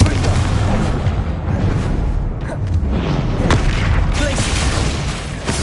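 Confringo explosion spell in the video game Hogwarts Legacy, heavy booming blasts and rumbling impacts layered with a shouted spell incantation over dense, continuous combat noise.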